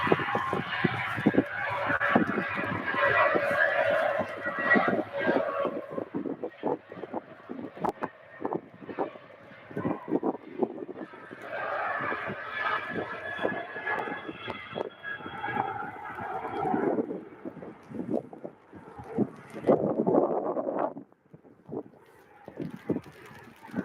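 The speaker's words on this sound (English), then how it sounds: "that wind is getting up now, folks." Strong gusty wind buffets the microphone at Manchester Airport, a loud rumbling roar that surges and drops in waves, with flapping umbrella fabric and faint aircraft engine noise behind.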